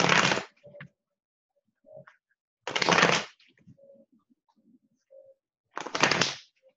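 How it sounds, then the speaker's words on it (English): Three quick riffle shuffles of a tarot card deck, each a crisp close burst, separated by quiet gaps with faint handling noises. "So tell me when to stop shuffling."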